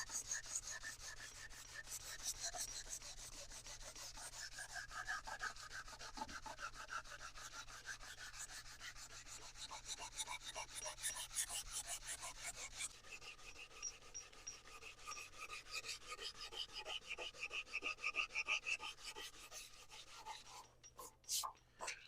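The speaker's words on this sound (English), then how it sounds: "I'll keep sanding." Steady rhythmic strokes of hand sanding on a 1969 Ski-Doo part, a close, raspy back-and-forth rubbing that continues throughout, quickening and shifting in tone partway through.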